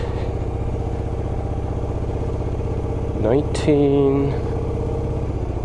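A motorcycle engine drones steadily and close while riding a bumpy forest road on a solo camping trip, a low rumbling idle-like throb with a voice speaking briefly over it.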